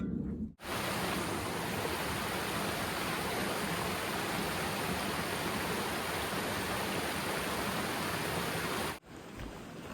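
A river rushing past a riverside campsite, a steady, loud broadband roar of flowing water held for several seconds between brief quiet gaps, with no talk.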